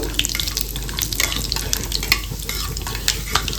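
Black mustard seeds stirred and frying in hot oil for a chili pickle, a busy crackling sizzle with scattered sharp pops and scraping stirs, close and continuous, no voices.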